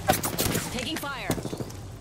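Rapid gunfire in Apex Legends, with a quick series of sharp shots crackling close by, mixed with other game sounds and a voice speaking over it.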